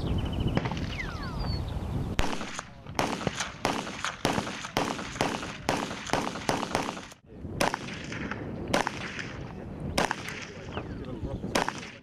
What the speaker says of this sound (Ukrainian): учасники змагань стріляють з автомата на швидкість